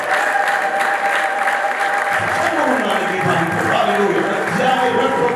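Applause and ululation at an Ethiopian wedding ceremony, loud sustained clapping with high trilling voices carrying over a dense crowd throughout.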